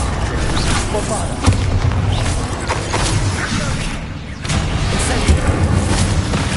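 A Bombarda spell explosion in Hogwarts Legacy, a loud, dense booming blast with rumbling debris that fills the whole stretch, dipping briefly before surging again.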